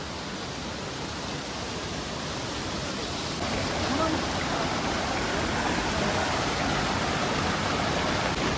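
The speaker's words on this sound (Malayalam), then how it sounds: "ആ മുകളിൽ നിന്നുള്ളൊരു വെള്ളച്ചാട്ടം കണ്ടോ." A waterfall at Marmala Aruvi, running low, spills over rocks in a steady, close, broadband rush that swells slightly partway through and never lets up.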